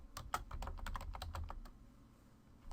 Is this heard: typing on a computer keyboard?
yes